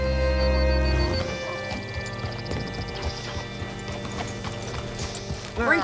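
Horse hooves clip-clop steadily at a walk in the video game Red Dead Redemption, a regular muffled rhythm under game music and ambience with a brief whinny-like rise at the end.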